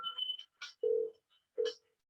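Someone picks up a telephone and dials, producing a short series of tones and clicks with brief gaps between them, close and fairly quiet.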